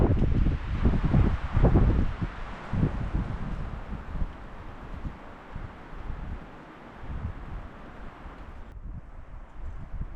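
Cool morning wind gusts across an April canoe campsite in the Boundary Waters, loudest in the first few seconds and then settling into a steady low rush with no voices.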